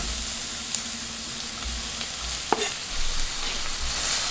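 Onion and garlic frying in a teaspoon of oil in a pan on the stove, giving a steady close sizzle with a brief clink of utensil midway; no talking.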